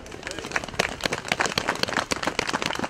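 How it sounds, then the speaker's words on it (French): Audience applause at a Montreal rally against Boko Haram in February 2015: a crowd claps in a dense, steady patter of overlapping hand claps for about three seconds, with voices mixed in. "Je crois qu'il mérite des applaudissements pour ça."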